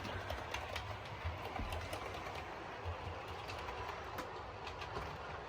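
A model train on a Yorkshire Dales layout runs from the storage yard onto the main line, with a continuous close clickety-clack of wheels over rail joints and a low motor whir.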